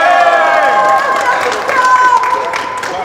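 A rap battle audience cheers and shouts in a loud, continuous burst, voices layered over one another in a packed venue.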